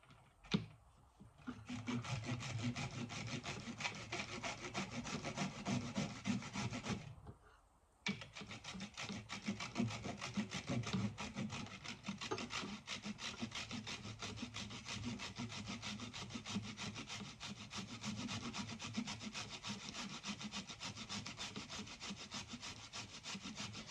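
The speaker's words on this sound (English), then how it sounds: "now you're going to want to grate your carrot" A carrot is rubbed against a grater in a home kitchen, giving a continuous close rasping scrape that runs almost nonstop, broken by two brief pauses.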